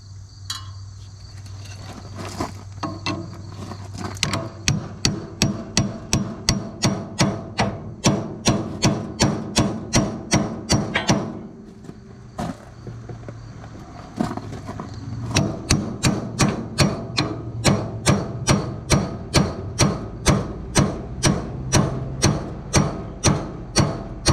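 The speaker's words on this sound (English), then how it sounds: "If not, we'll just hammer" Rapid, evenly spaced metal-on-metal hammer blows knocking a tie rod end off an International 856 tractor ring out in long runs, pausing briefly midway before the steady pounding resumes.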